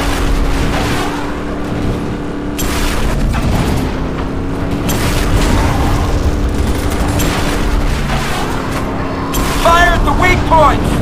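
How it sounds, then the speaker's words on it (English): Gunfire at explosive barrels in the shooter game Nova 3, dense loud booms and blasts layered with game music and effects, mixed with voices speaking. "Shoot those barrels!"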